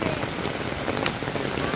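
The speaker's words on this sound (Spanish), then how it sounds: "Tormentón bueno otra vez." Heavy rainstorm pouring down in a dense, unbroken hiss of drops beating on surfaces, loud and close, with no voices.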